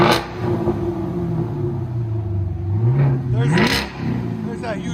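A 2018 Chevy Camaro SS with a 6.2L V8 and Flowmaster Outlaw exhaust idles with a deep rumble, then revs up and drops back a couple of times, loud and close, with people talking over it.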